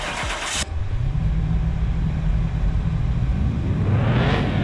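A 950HP muscle car engine on a dyno, a loud burst at first, then a steady deep rumbling drone that rises toward the end, with no talking.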